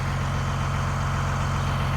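A 24-valve Cummins diesel engine in a school bus idles close by, a steady, loud, low throbbing rumble with an even pulsing rhythm and no voices.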